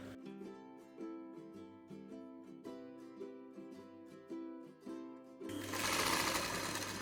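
A vintage industrial Singer 95K sewing machine runs with a steady rhythmic mechanical clatter and hum, close and loud, then shifts to a broader whirring roar near the end; no talk.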